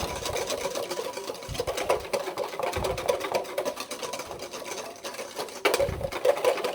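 Butter is whisked into a sauce for eggs royale, a wire whisk beating fast and steadily against the pan in a continuous close rhythmic scraping and ticking, moderately quiet and without talk.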